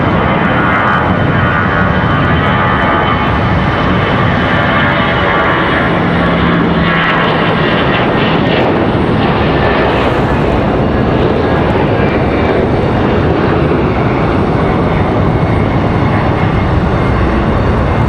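An Airbus A319 jet departs at Raleigh-Durham International, its engines a loud, steady broadband roar that holds throughout with a faint rumble underneath and no talk.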